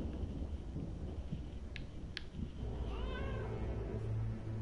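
A cat meows a few times at close range over a steady, rumbling background, with no talking.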